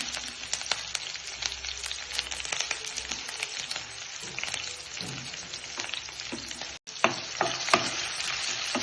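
Green chilies and curry leaves with mustard seeds and cumin frying in hot oil, a dense, crackling sizzle full of rapid pops and spatters, loud and close, with a brief dropout and then sharper crackles near the end.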